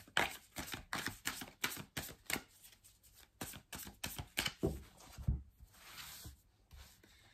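Starseed Oracle cards being shuffled for a reading: a run of quick, crisp riffling and flicking bursts, close and soft, with no talk.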